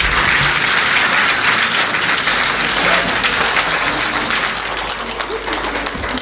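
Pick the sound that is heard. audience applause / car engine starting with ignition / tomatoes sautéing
audience applause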